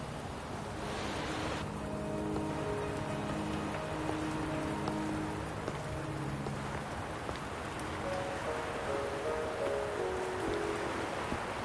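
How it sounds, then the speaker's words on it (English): Steady video-game rain hisses evenly throughout, with soft, sustained musical tones drifting beneath it and no voices. "Are you trapped here by the rain?"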